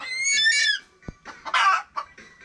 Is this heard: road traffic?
no